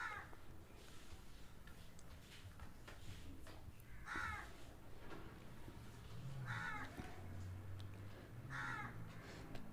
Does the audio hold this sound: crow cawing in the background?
yes